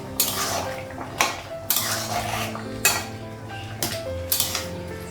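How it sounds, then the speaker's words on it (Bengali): A pot of cooked rice lifted off a home stove in a Bengali kitchen, with repeated close metallic clanks and scrapes of pot and utensils at uneven intervals over a low background hum. "ভাতটা হয়ে গেছে ভাতটা নামাবো"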